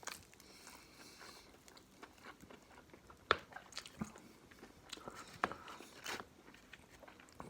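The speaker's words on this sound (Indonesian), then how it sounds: "Makan sayap biar bisa terbang" Biting and chewing on KFC fried chicken wings, a series of crisp crunches and wet chews up close, irregular bites spread across several seconds with no talking.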